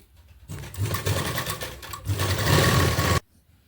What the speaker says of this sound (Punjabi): ਸਭ ਤੋਂ ਪਹਿਲਾਂ ਜਿੱਥੇ-ਜਿੱਥੇ ਵੀ ਆਪਾਂ ਮਾਰਕ ਕਰਿਆ ਇਹਦੇ ਉੱਪਰ ਆਪਾਂ ਸਾਰੇ ਤੇ ਪਹਿਲਾਂ ਸਲਾਈ ਲਗਾ ਲੈਣੀ ਆ